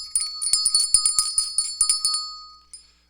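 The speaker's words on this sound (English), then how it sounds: "So here's the bell." A small hand bell rung in a workshop, a quick series of about a dozen bright, close metallic rings with short decaying tones, ending with one lighter ring after a pause.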